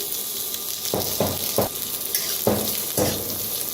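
Half an onion roasts in a little oil over a village wood-fired stove, giving a steady sizzle punctuated by several short bursts of crackling and spattering.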